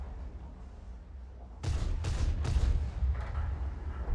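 Several booming shots from a video game M53/M55 self-propelled gun ring out in quick succession, about three heavy cannon blasts close together over a low rumbling background, loud and near.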